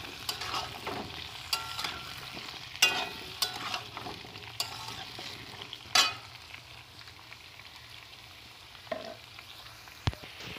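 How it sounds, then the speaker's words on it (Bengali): Pumpkin and potato pieces fry in oil and are stirred, a low continuous sizzle punctuated by sporadic louder scrapes and knocks of the spatula against the pan, close and quiet, without talk. "আলু কুমড়োটা ভাজা হচ্ছে"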